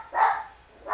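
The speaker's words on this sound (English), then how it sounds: "Sorry guys, that's my dog." A dog barks twice, close and loud, the second bark beginning just as the clip ends.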